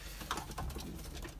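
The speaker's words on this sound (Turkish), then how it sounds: "Bakalım arkadaşlar yeni kuşlar geldi" Pigeons coo in a breeding aviary, among newly arrived birds, with soft repeated low calls and light fluttering rustle throughout, close by and moderately quiet.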